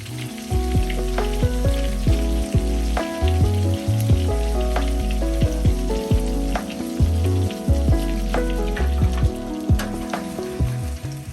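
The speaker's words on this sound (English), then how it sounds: "once you put your brioche that has the custard on it, the French toast, into the pan, it won't burn right away" Custard-soaked brioche French toast frying in a hot pan gives a steady, loud, close sizzle throughout, with crackling pops and clinks on top and no voices.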